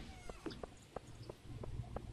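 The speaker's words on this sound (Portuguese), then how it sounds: "Olha o gato lá em cima." A cat in the farming video game Stardew Valley gives a string of short, clear meows at an even pace, faint and close, over quiet game ambience with no talking.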